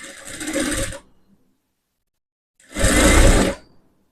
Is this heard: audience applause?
no